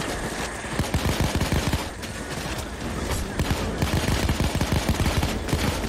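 A dense, loud gunfight in the heist video game Payday 2, with rapid continuous automatic fire and overlapping shots that barely let up from start to finish.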